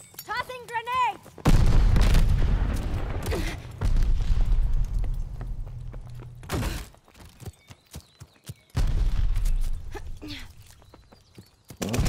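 Grenade blasts and gunfire in the Call of Duty: Vanguard hardcore deathmatch, heavy booming explosions with rumbling tails and scattered sharp shots, loud and close, with brief speech and quieter gaps between blasts.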